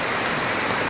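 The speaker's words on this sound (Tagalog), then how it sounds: "Ulan masyado dito ngayon. May bagyo." Heavy rain pours during a typhoon, a loud, dense, continuous hiss of drops drumming on surfaces, close and steady until it cuts off abruptly.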